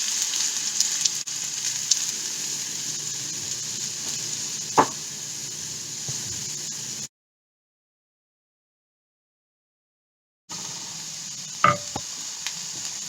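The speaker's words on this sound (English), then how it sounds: "Now I'm going to fry the onion." Sliced onion, about one whole, fries in a pan with a steady hiss, broken by a silent gap partway through and a couple of sharp clinks of a utensil.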